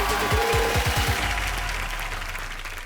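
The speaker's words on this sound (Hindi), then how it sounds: "ताली बजा दो" Applause from a stand-up comedy audience, a burst of clapping near the start that then thins and fades out.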